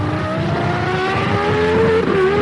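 A 2003 Formula 1 car driven by Rubens Barrichello at the French Grand Prix, its engine holding a loud, steady high-pitched whine that rises slightly, continuous and close with no talk.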